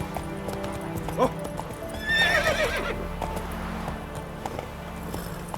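Horse hooves clip-clop steadily in the fantasy game The Witcher 3, with a horse's whinny partway through and someone speaking briefly over the hoofbeats.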